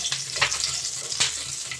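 Garlic, ginger and chopped green chili sizzle in a pan with a steady hiss, broken by a few sharp stirring scrapes, close and moderately loud.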